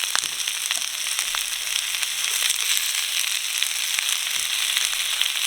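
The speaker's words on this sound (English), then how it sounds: "So I'm going to throw the spinach in." Spinach with garlic frying in a hot pan, giving a steady, loud sizzle with dense crackling pops that holds throughout, with no voices.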